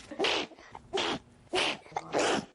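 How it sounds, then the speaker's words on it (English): A 12-year-old girl with a condition of constant sneezing sneezes four times in quick succession, evenly spaced, close and clear with no talk. "a rather bad case of the Achoos, a volcano of sneezing numbering, get this, thousands of eruptions a day"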